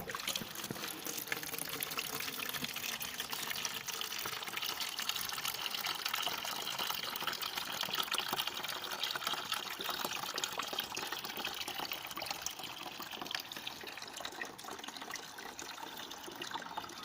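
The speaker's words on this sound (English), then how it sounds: "Put in some rainwater" Rainwater pours steadily into a plastic bowl, giving a continuous splashing, trickling rush that holds an even level throughout, with no voices.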